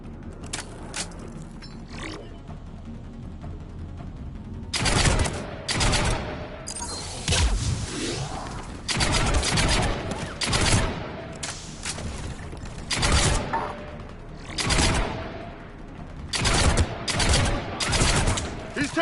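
Bursts of automatic gunfire from a Mass Effect 3 firefight, loud and close, arriving in repeated heavy volleys after a quieter opening, with mechanical clanks between the bursts.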